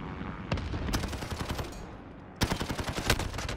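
Automatic gunfire in the video game Rust comes in rapid bursts of sharp close shots, then a brief lull before another loud rattling volley, with no talking over it.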